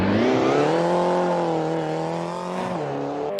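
A rally car on a Tour of Czech-o-Slovakia stage holds a loud, steady engine note close by while sliding through a handbrake turn, the pitch rising slightly and then dipping briefly near the end.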